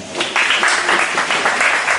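A church congregation at a French-language service claps together in steady, loud waves that swell and hold for the whole moment, with no voices rising above it.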